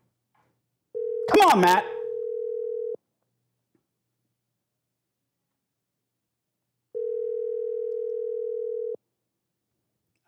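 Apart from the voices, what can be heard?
telephone ringing on a call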